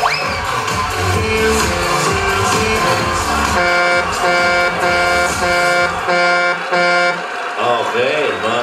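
Car horns honk repeatedly in loud, sustained toots, mixed with a busy backdrop of crowd voices and other noise.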